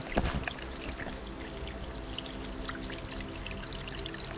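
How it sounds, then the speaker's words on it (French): Water still flowing in a park stream on its way to a wash house, a steady trickling and pouring wash heard close and continuous, with no talking. "Il y a de l'eau qui coule encore là."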